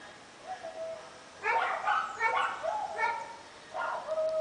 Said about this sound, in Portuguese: Outro cachorro.